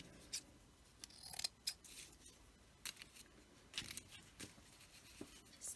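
Scissors trim a thin glassine paper bag with quiet, crisp snips at an irregular pace, close by and otherwise alone.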